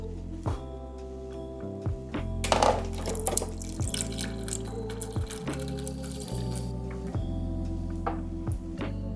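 Water splashes and gurgles into a pot of wine spices and brown sugar for mulled wine, with wet sloshing and dripping over a low steady hum, fairly close and without talking.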